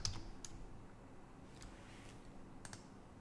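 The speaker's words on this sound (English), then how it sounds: "And then I start typing" Someone types on a computer keyboard while entering a puzzle answer in code, producing faint, sparse key clicks that are close and quiet, with only a few distinct taps and no talking.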